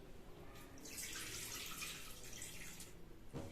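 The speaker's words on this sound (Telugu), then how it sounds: "3 టైమ్స్ మనం వాటర్తో ఇప్పుడు వాష్ చేయబోతున్నాం" Rice being rinsed with water in a bowl during home cooking, giving a steady splashing and swishing of water that builds after the first second and continues for about two seconds, with a few clinks near the end.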